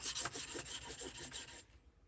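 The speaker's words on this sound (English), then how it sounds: "smooth that edge off a little bit with the 400 grit." Fine 400 grit sandpaper rubbed along the edge of an axe head in quick, even strokes, giving a soft, close rasping that runs for a second and a half and then stops, with no voices.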